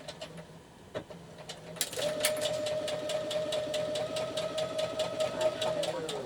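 A temperamental sewing machine runs steadily with a rapid mechanical ticking and a humming whine for several seconds, close by, after a few quieter clicks.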